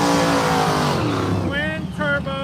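A twin-turbo 6.0 LS V8 in an Oldsmobile Cutlass no-prep drag car revs loudly, a dense roar giving way to sharp rising whines near the end, with talk over it.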